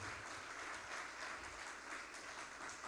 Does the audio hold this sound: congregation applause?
yes